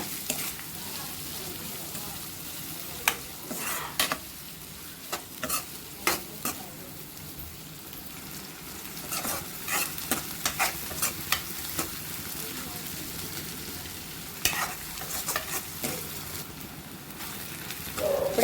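Onions frying in a pan for a homemade prawn curry, with a constant low sizzle and repeated scraping strokes of a spoon stirring through the pan, some louder than others.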